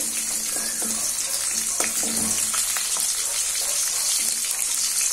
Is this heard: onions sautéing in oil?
yes